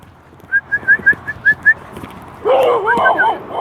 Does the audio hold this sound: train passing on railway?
no